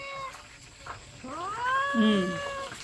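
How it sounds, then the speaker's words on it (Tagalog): A cat meowing near an outdoor home kitchen where a Filipino dish is being cooked: one drawn-out rising meow, fairly close, over quiet room noise, with no talk. "Pusa, kahit saan ako pumunta may pusa."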